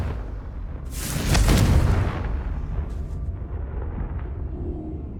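A Confringo fire spell from Hogwarts Legacy bursts with a loud, booming explosion that swells quickly and then trails off into a low, rumbling decay over quiet game ambience.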